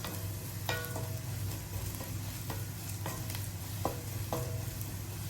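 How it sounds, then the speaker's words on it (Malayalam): Steady oil sizzle of green chillies and ginger frying, with several sharp crackles and spatters popping at irregular intervals; no voices. "പച്ചമുളകും കൂടെ ചേർത്തിട്ട് നമുക്ക് ഒന്നും കൂടി ഇതിനൊന്ന് മൂപ്പിച്ചെടുക്കണം."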